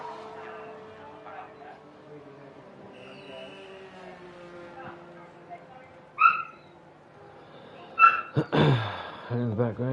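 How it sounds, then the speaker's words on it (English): A pet dog barks twice in the background, a short sharp bark followed by a second louder one, over steady talk from people commentating a sim-racing league round with engine hum underneath. "in the background you can hear my dog go"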